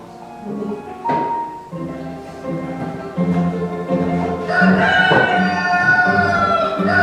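A rooster crows and clucks in a staged musical performance, loud and close, with several rising calls and chattering fowl sounds building toward the end over a low musical backing.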